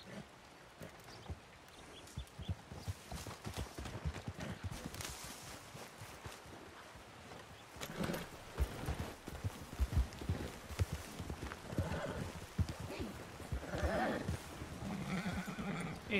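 Horses in a Red Dead Redemption 2 roleplay session, with clip-clopping hooves and occasional whinnies and snorts in the game world, mixed with faint voices and ambient game sound throughout.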